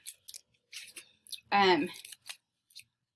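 Several quick scissor snips cutting paper, crisp and close, with a brief burst of voice in the middle.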